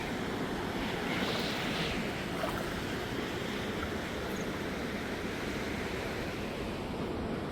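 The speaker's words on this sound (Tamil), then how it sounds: "தண்ணி ஓடிக்கொண்டிருக்கு" Water pours steadily over the Iranaimadu reservoir spillway, a loud, unbroken rushing roar heard up close with some wind buffeting the microphone.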